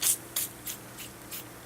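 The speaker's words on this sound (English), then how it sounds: "Now I'm going to hit it with this foaming cleaner again" Foaming cleaner sprayed onto a dirty bass guitar body in five short, sharp hissing bursts spaced evenly apart, fairly close and moderately loud, with no talking.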